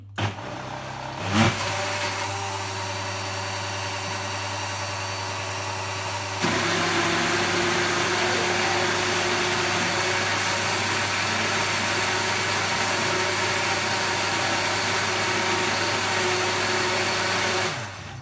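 A blender whirs steadily through frozen banana nicecream, a loud, continuous motor drone with a brief jolt near the start and a louder, fuller pitch shift partway through as the blade spins freely again.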